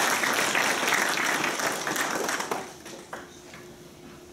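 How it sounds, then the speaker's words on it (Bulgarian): Audience applause for a team at an official STEM presentation, a full round of clapping for the first two and a half seconds that then thins into scattered claps and fades out. "Още един път аплодисменти"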